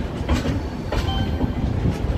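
A passenger train on the Sealdah to New Jalpaiguri route rolls into NJP station, its wheels clattering rhythmically over rail joints with a low, rumbling undertone, heard close from on board.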